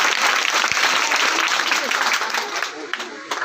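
An audience at a Teacher's Day program at a coaching center claps loudly and continuously, dense applause that slowly thins toward the end with voices mixed in.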